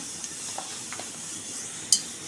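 Urad dal frying in hot oil for a chicken dish, a steady soft sizzle with a few faint ticks and a sharp utensil clink near the end, no one talking.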